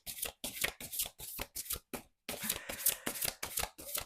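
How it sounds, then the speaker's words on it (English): A deck of oversized tarot cards is shuffled by hand in quick, close riffling bursts, each a crisp papery flutter, with one brief pause partway through and no voice. "I will try to shuffle for an emotional card for you."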